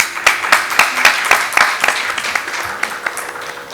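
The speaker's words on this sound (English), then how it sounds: "can we have another round of applause for that elan, poise, and the nuanced presentation?" An audience at a classical Indian dance performance applauds, with dense, quick hand claps that stay steady and fairly loud for a few seconds.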